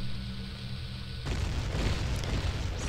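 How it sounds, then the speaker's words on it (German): A bomb explodes in Zelda: Ocarina of Time's Dodongo's Cavern: a deep, loud explosion suddenly erupts and rumbles on, with crumbling debris noise trailing after the blast. "Bam, alles explodiert."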